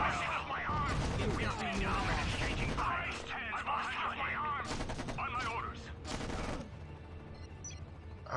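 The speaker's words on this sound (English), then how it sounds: "That is a lot of mortars!" Mortar fire in the real-time strategy war game Act of War: Direct Action comes as a dense, continuous barrage of booms and rattling gunfire, loud throughout, with game voices mixed in.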